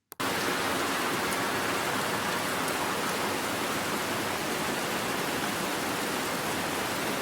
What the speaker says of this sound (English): So we might add the storm sound effects like this.